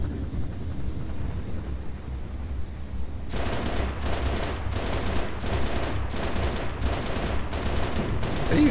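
Sustained bursts of automatic fire in Halo Reach during a gunship battle, heard as six or seven evenly spaced heavy pulses over a constant low engine drone, loud and close, with no voices.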